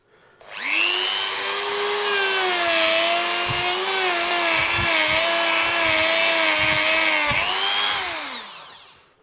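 A spinning buffing mop loaded with honing compound polishes metal guitar parts for a Telecaster build. The motor whines up, runs steadily with a humming tone and scattered knocks as the part is pressed in, then spins down.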